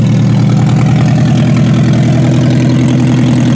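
An old, rusty Toyota car idling with its exhaust missing, a loud, steady, rough low rumble with rapid regular pulsing throughout and no talk.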